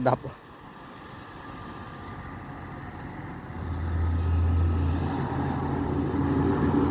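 A ten-wheel trailer truck grinds up a hill with a low, far-off engine rumble that swells louder and deeper partway through, while people talk over it.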